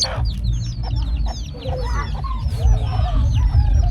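Chickens cluck over and over, close and busy, in a rural hill-tribe village, along with a rooster-like call and a low rumble of background noise.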